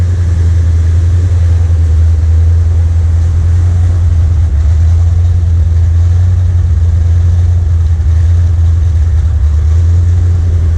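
A loud, deep V8 engine of a 1979 Corvette L82 idles choppily with a low rumbling drone, running continuously for several seconds with no voices.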